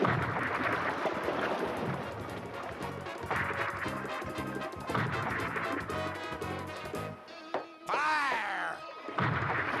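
Cannons firing from a ship in an animated show about the Pinzon brothers' voyage of exploration, a series of heavy repeated booms and crashes with orchestral music underneath and brief shouting near the end.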